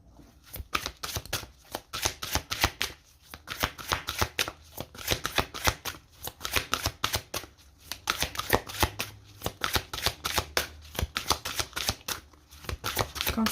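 Tarot cards shuffled continuously by hand, close and crisp, a rapid rhythmic series of riffling bursts and soft taps repeating throughout with no talking.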